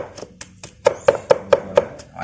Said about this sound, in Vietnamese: Giai đoạn băm sụn